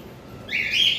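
Caged lovebirds at a bird seller's give a short burst of bright, high chirping that starts halfway through against a quiet background.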